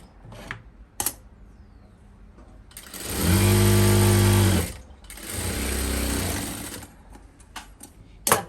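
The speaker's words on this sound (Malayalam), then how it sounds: "ഇങ്ങനെ അങ്ങോട്ട് വെച്ചിട്ട് കറക്റ്റ് 1/2 ഇഞ്ചില് ഇങ്ങനെ ഒന്ന് തയ്ക്കുക" A sewing machine stitches a half-inch seam on a blouse sleeve, running in two sustained bursts of fast motor hum and needle chatter, separated by a short pause and framed by a few clicks of handling.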